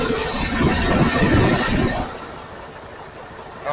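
A truck engine runs with a loud, dense broadband roar that drops abruptly to a quieter, steady idle about halfway through, close to the listener.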